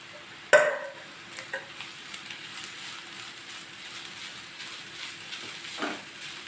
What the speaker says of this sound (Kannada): ಈಗ ಕಾಯಿ ತುರಿ ಹಾಕ್ತಾಯಿದ್ದೀನಿ